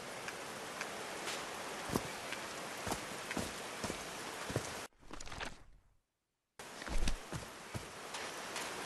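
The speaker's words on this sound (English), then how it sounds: "These drops of rain are so refreshing." Rain falls steadily in the adventure game Call of the Sea, a dense hiss of drops with scattered louder splashes, cut off briefly midway by a dip and a moment of silence before resuming.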